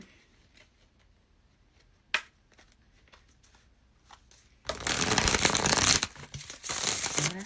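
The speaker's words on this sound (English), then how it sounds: "Let's shuffle some cards up." Quiet rustling and a sharp snap of playing cards, followed by a loud riffle shuffle and a brief bridge, all close up.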